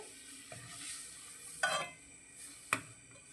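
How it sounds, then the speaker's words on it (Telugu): Milk simmers in a cooking pot for carrot and sago payasam, a quiet steady bubbling hiss broken by two sharp metallic clinks of a utensil, with no talking. "పాలు అయితే మనకి మరుగుతున్నాయి చూడండి"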